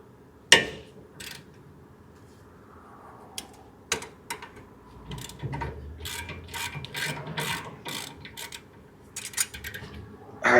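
A wrench breaks loose the rear brake caliper bolts on a 2017 or newer Ford F-150, giving sharp metallic clacks and a burst of rapid ratcheting clicks, close by in a quiet garage.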